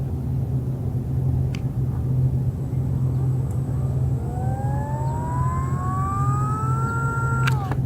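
Acton Blink Lite electric skateboard motor at full throttle, a clear whine climbing steadily in pitch over a few seconds above a constant low rumble, then cutting off abruptly, heard close.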